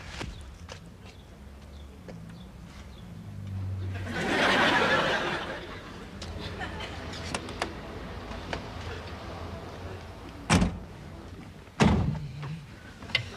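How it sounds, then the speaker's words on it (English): A household door bangs shut twice near the end, sharp thuds following a stretch of shuffling footsteps and rustling with a muffled swell of movement. "you don't have to slam the door. Just close it gently."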